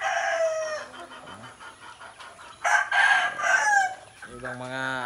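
Asil roosters crow on a rainy morning on a mountain farm, several loud drawn-out cock-a-doodle-doos overlapping with clucking hens, fairly close, with a brief voice in the background.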